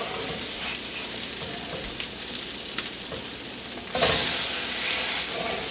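Large fish cakes for a fish burger sizzling steadily in a pan after being flipped, a constant crackling fry with scattered pops that briefly swells louder near the end.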